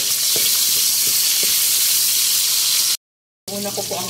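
Onion and tomato sizzling in hot oil in a pan, a steady loud hiss with a few light stirring clicks. The hiss cuts out briefly to silence, then returns with a bit of faint background sound.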